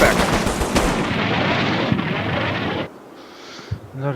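Heavy 105mm artillery fire in the Combat Mission: Battle for Normandy video game: a dense, loud roar of rumbling blasts and crackling bursts for several seconds, then cutting off to quieter scattered thuds.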